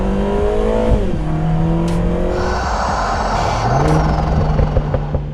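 A Lotus Emira's 400-horsepower turbocharged four-cylinder engine pulls hard, its loud, close drone rising through the gears with a brief shift dip and a faint tyre squeal.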